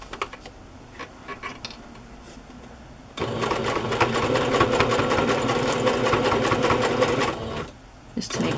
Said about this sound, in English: I think I'm going to have to sew these little balls down.